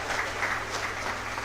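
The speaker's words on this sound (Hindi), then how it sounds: "ताली बजाने में कंजूसी मत करिए।" Audience applause fills a hall at a Ramayana conclave in Noida, a steady dense clapping from many hands sustained evenly throughout the short moment.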